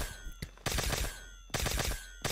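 Automatic gunfire in Garry's Mod: two long rapid bursts of loud, close shots, with a brief single shot before them and a ringing tone between bursts.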